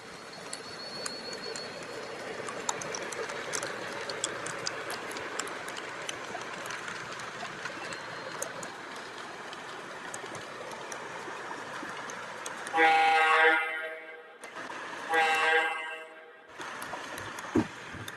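An MTH model train, an FM Erie build locomotive, runs with a low, steady rumble, then near the end sounds two loud horn blasts separated by a brief gap.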